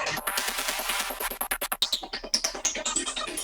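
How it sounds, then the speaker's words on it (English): A glitchy electronic sequence paired with a chopped, glitchy vocal, producing rapid stuttering bursts and clicky fragments that grow more choppy toward the end. "we have really cool combination of sounds like this guy and this guy, which are a glitchy sequence and a glitchy vocal"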